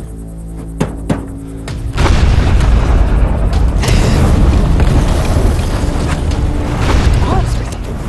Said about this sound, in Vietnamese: Tàu bị nổ à?